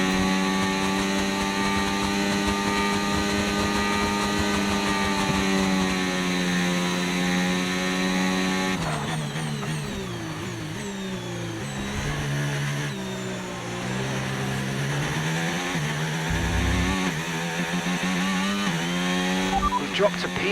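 A Formula 1 car in the F1 25 racing game runs at full throttle toward 130R. Its high-revving engine whine holds steady, then shifts pitch up and down through gear changes, loud and continuous throughout.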